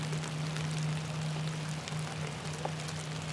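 Steady rain falling on a spring riverbank during carp fishing, a constant hissing patter with occasional louder drops, alongside a steady low hum.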